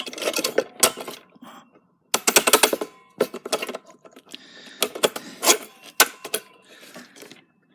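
Screws being driven into the back of a metal case for a Variac build, heard as several bursts of rattling, clicking turns separated by short pauses, close and fairly loud with no talk.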